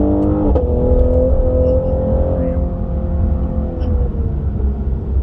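A Cadillac CT5-V engine in manual mode revs hard and climbs in pitch toward redline, loud and close, a steady mechanical roar throughout.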